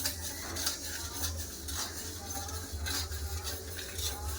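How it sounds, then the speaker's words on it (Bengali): Moong dal being stirred and dry-fried in a small wok, with a steady scraping and clinking of the spatula against the metal over a faint sizzle, close and continuous with no talking. "একটু ভালো করে ভেজে নেবো"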